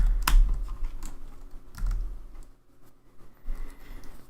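Typing on a fairly cheap Rapoo keyboard styled after the Mac Magic Keyboard during a coding session, with quick irregular key clicks and a few firmer taps spread across the stretch, close and moderately loud with no talk.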